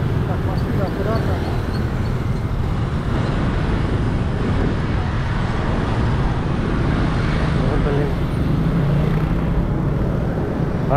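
Steady car and road traffic rumbles close by on a busy street in Nha Trang, Vietnam, as people cross on foot, with someone talking over the continuous roar.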